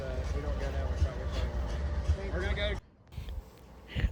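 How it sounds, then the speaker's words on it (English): A Norfolk Southern freight train rumbles along the rails nearby on a mountain curve in western North Carolina, with low mechanical drone and squealing wheel tones, then the sound abruptly drops to quieter rumbling. "the train went around the curve into Hildebrand, North Carolina by some old camp cars."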